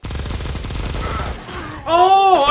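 Rapid gunfire in the top-down shooter Bullet Echo rattles steadily for over a second, then stops, followed by a louder tonal game sound.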